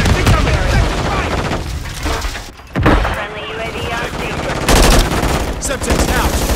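Automated sentry gun firing in a Call of Duty match, bursts of rapid gunfire running almost continuously over the battle din, briefly dropping out mid-clip before resuming loud and close.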